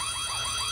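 An intruder alarm rings inside a school in the horror video game White Day, a steady warbling electronic siren that holds at moderate level for a brief moment with no talking.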